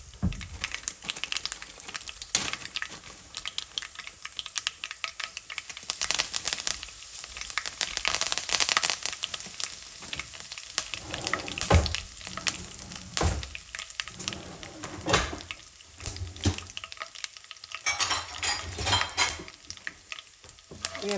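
Curry leaves sizzling in hot oil for a tempering, a steady crackling fry with intermittent scraping and stirring of a spoon in the pan, close and continuous.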